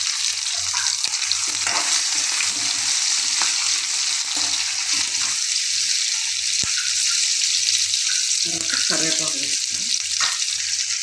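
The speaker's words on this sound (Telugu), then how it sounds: "తర్వాత కొంచెం మిరియాలు వేసుకొని బాగా వేయించుకోవాలి" Cumin, black pepper and onions frying in oil for a fish curry: a steady, loud broadband sizzle that holds throughout, with a few scraping stirs and clinks near the end and no talk.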